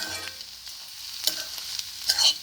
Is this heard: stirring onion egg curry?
yes